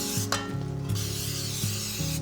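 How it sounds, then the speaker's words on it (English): Nonstick cooking spray is sprayed into cake pans for a zebra cake: a close, steady airy hiss with a couple of sharper bursts, over a low background hum. "I spray each one with a little nonstick spray,"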